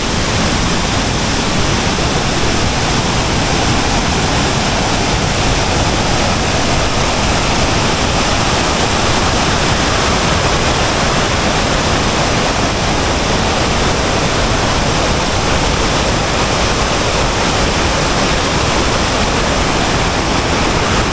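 Kuang Si waterfall in Laos after flooding pours as a loud, unbroken roar of rushing water, dense and steady throughout with no voices.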